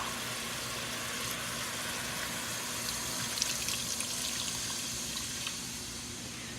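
Chicken broth poured into a pot of cooked onions makes a steady, moderately quiet liquid rush and splash that runs without pause before easing slightly at the end, with no talking.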